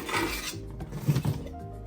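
Jellied cranberry sauce being scraped out of a pan, with a few short rasping scrapes and soft metallic rubs, close and fairly quiet.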